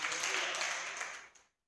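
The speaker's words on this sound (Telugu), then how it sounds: "గట్టిగా చప్పట్లు కొడదాం" Audience clapping fills a youth church meeting, a dense burst of many hands that holds steady, then fades and stops after about a second and a half.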